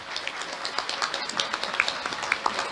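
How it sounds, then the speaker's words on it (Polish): Light, scattered applause at a town council session in Sępólno Krajeńskie, with a few people clapping softly and unevenly in a quiet room. "Tak, klaski wskazane."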